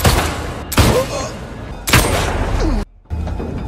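Gunshots from a Tony Jaa action movie: loud, sharp bursts of rapid gunfire crack out twice over a dense, noisy movie soundtrack, followed by a brief silence and a softer background rumble.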